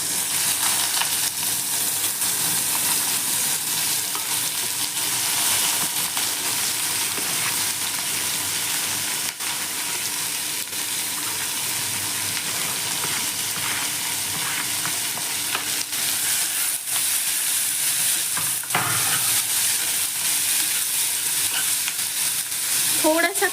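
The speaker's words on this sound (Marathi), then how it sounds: "आता आपण याच तेलात प्युरीसाठी कांदा आणि टोमॅटो फ्राय करून घेणार आहोत." Onion and tomato fry in oil for a dum aloo puree, a steady close sizzle with occasional stirring scrapes running continuously without talk.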